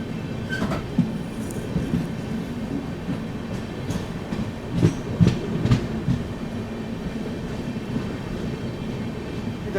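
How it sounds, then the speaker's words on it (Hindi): Magadh Express passenger train runs along the rails with a steady rumble and scattered wheel clicks and clunks, growing louder in a brief burst midway. "अपनी जो मगध एक्सप्रेस है वो चल रही है"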